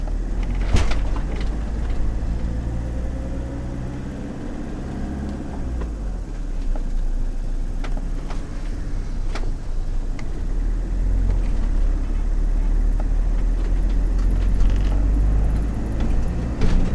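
A 2005 Fiat Ducato van with an automated clutch system pulls away in first gear, its low engine rumble steady and close throughout, with scattered clicks and knocks from the cabin.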